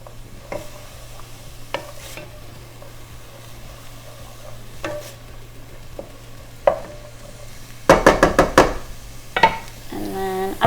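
Homemade marinara sauce sautéing over medium heat, a soft steady sizzle with scattered spoon taps and a short burst of louder rattling stirs near the end, under a faint low hum.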